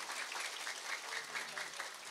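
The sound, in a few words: audience applause for the regent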